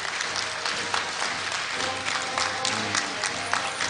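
Steady congratulatory applause from a large audience at a university graduation ceremony, a continuous even roar of many hands with a low hum of the hall beneath.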